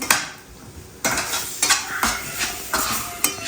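Capsicum and green chilies are sautéed in a pan for Mexican rice, with rhythmic bursts of spatula scraping and stirring over a gentle sizzle, close and clear, roughly one stroke every half second, no talking.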